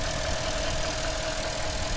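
A naturally aspirated 4.8-liter V8 in a 2017 Porsche Cayenne runs smoothly at a steady, even hum with a faint constant tone, close by and without talk.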